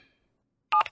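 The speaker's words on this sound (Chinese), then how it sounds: "我这就给阿姨打电话。" A quick burst of telephone keypad dialing tones sounds near the end, a few short beeps in rapid succession after near silence.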